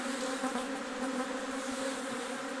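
Dense, continuous buzzing of a large swarm of honey bees around a hive box, steady and fairly close, with no voices.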